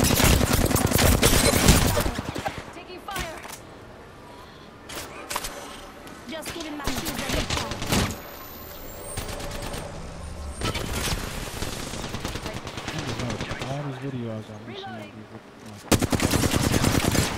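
Bursts of rapid automatic gunfire in the battle royale game Apex Legends, loud and close with heavy sustained volleys and scattered single shots, a player's voice speaking over the fighting.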